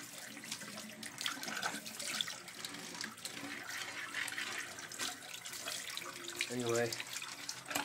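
Cold tap water runs from a low-pressure faucet and splashes over a window air conditioner filter as dirt is rinsed from its crevices. The gushing and spattering is continuous, with a brief spoken word near the start.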